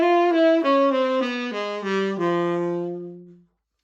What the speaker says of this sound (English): Now in a doubly harmonic minor scale,